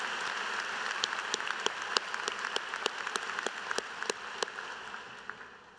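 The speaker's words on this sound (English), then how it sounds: "Please join me in a round of applause for these platform guests." Audience applause for platform guests at a spring graduate commencement ceremony, a steady wash of many hands clapping with a few sharper claps standing out, moderately distant and without talk.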